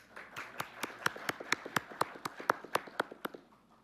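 A small audience at an academic law lecture gives a short, sparse round of clapping with about a dozen distinct claps at a fairly even pace, which fade out toward the end.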